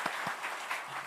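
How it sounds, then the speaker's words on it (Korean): A Korean church congregation at an early-morning revival service gives a round of blessing applause, a short stretch of dense, steady clapping from many hands. "우리 축복의 박수로 한번 좀 격려해"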